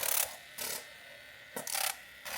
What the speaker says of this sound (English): you grab your little milk frother and you whisk this until it's about double in size